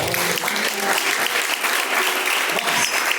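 A church congregation at a live Sunday service bursts into sustained applause, a loud, dense wash of many hands clapping continuously, with some voices faintly mixed in.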